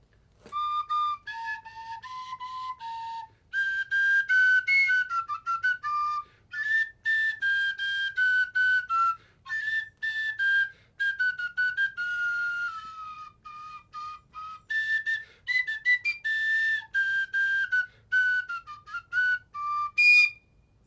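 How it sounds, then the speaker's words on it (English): A tin whistle plays a lively melody, clear, close and alone, in phrases of quick notes and short held tones broken by brief pauses for breath. "the instrument I learned to play on first of these type was the tin whistle."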